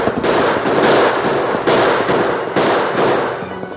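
Rapid, dense crackling volleys of gunfire from a 1947 Lone Ranger radio drama, loud bursts rolling together with narrow, old broadcast tone and no talking.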